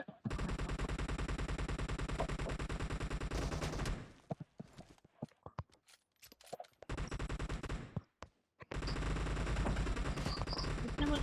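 Bursts of automatic gunfire from the PUBG Mobile video game during a team deathmatch, dense rapid rattling fire in two long stretches with scattered single shots and a brief lull between.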